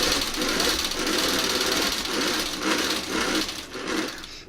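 A domestic sewing machine runs along a marked line on fabric, its loud, close motor buzzing continuously with slight pulses in speed and a short lift in intensity at the very end.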